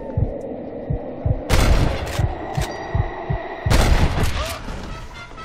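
Two loud, sharp gunshot blasts ring out from a revolver in Red Dead Redemption, about two seconds apart, each leaving a short echoing tail over a low, steady rhythmic thumping.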